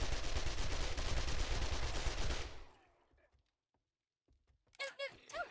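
In the video game 7 Days to Die, an auto shotgun loaded with slugs fires a rapid, dense burst of loud booming shots for over two seconds, then falls nearly silent before a voice speaks.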